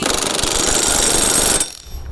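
An impact wrench or power tool tightens the blade nut on a John Deere S240 riding mower, a loud continuous rattling hammer burst lasting about a second and a half before cutting off abruptly.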